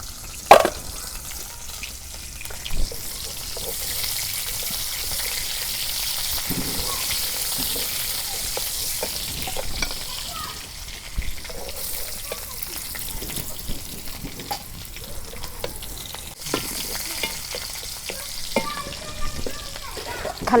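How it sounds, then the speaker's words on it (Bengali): Chopped onions frying in hot oil, a continuous crackling sizzle with a few stirring scrapes, and a voice occasionally talking over it. "খালি পেঁয়াজ দিয়ে বাগার দিলাম"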